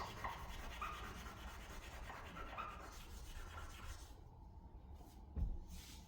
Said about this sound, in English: So I'll grab my little scouring pad here and just scrub that away.